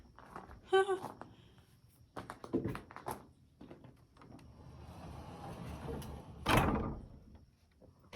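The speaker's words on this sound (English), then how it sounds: "The door's shut." A sliding door on an 1870 bank barn rolls and thuds shut, a rumbling scrape ending in a heavy knock, with a person talking briefly nearby.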